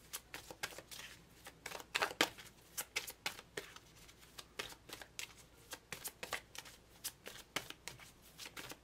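A deck of oracle cards is shuffled close up in a quiet room. Crisp riffling and flicking comes in quick uneven bursts that run the whole time, with no talking.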